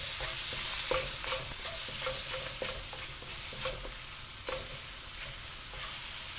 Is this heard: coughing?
no